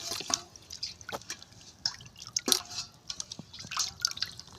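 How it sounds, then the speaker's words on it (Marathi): Water drips and splashes irregularly, with scattered wet clicks and trickles close by, as chicken is rinsed in water. "चिकन आपण पाण्यामध्ये धुवून घेतलं आहे"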